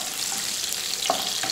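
Ginger and garlic sauté in hot oil with fried cumin seeds, giving a steady, dense sizzle that stays close and even for the whole short stretch, with faint stirring scrapes on top.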